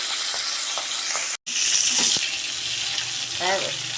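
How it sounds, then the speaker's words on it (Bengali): Bhola fish frying in hot oil in a pan gives a loud, continuous sizzle and crackle with a brief dropout, faint clinks and a short stretch of speech near the end. "বড় বড় মাছ দুটো করে ভেজে নি"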